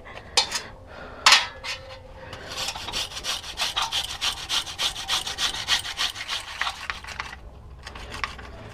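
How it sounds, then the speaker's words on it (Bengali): Two raw potatoes are grated by hand into a bowl of water. After a couple of knocks, rapid rhythmic rasping strokes run steadily for several seconds, then stop. The sound is close and clear, with no voices. "জল দেওয়ার পর আলুটাকে আমি গ্রেট করব"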